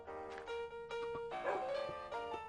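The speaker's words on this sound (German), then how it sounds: "Ist jetzt irgendwie ein Hund?" A dog barks in the video game Extreme Heights, a few sharp yips and barks in quick succession over a steady tonal music bed, fairly close and moderately loud.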